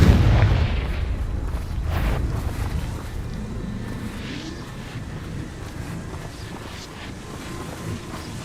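A Confringo blast spell in the game Hogwarts Legacy lands with a loud, deep boom at the start, then trails off into a long rumbling, wind-like decay.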